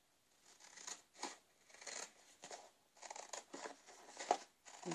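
Small scissors cutting out a paper template for a lapbook journal made from old books, a run of close, crisp snips in uneven bursts with short pauses between, heard alone.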